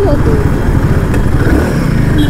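A Royal Enfield Himalayan 450 accelerates on a city ride, its engine note steady and loud, with someone talking over it throughout.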